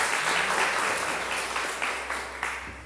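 Church audience applauding during a Catholic talk about the Virgin Mary, a steady wash of many hands clapping that fades gradually over a few seconds, with no speech over it.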